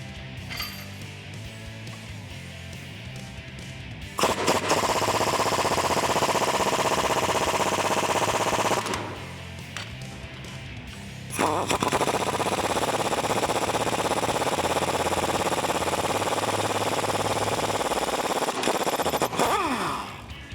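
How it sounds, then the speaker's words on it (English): Impact wrench with a 19mm socket spinning U-bolts off a 1987-era Jeep Wrangler YJ axle, loud rattling hammering bursts of several seconds each, close, separated by quieter pauses, with no talk. "We'll use a 19mm socket to take all 4 of these off."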